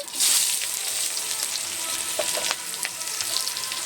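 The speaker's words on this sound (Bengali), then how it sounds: "এই যে শুকনো তেলে এবার শুকনো লঙ্কা দিয়ে দিচ্ছি, আর দিয়ে দিচ্ছি গোটা জিরে, পেঁয়াজ কুচি" Dry red chillies, whole cumin and chopped onion hit hot oil in a pan, producing a loud, continuous sizzle and crackle with a few sharp spits, close by and without talk.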